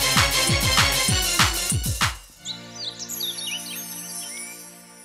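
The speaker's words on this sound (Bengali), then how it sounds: "পাখি ডাকছে, কত বাজে বলো তো মেঘা?" Birds chirp at dawn in short, bright, scattered tweets. They sound fairly near and follow an opening passage of strong rhythmic tonal sound.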